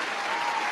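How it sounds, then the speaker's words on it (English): A brief burst of dense, even applause, loud and continuous for under a second. "round of applause for our taking a shot segment"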